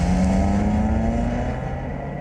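A car speeds along with a steady, loud engine drone and a rising tonal whine, road noise holding strong throughout before easing slightly near the end.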